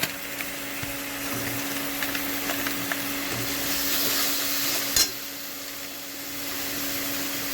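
Ground cumin, coriander and chilli powder fried and stirred in a pan for silver carp curry with okra, potato and pointed gourd: a steady close sizzle with light scraping and one sharp knock partway through.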